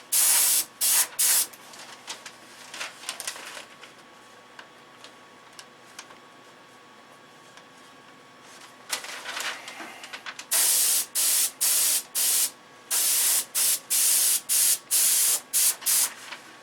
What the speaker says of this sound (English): So you want to spray it on kind of dry.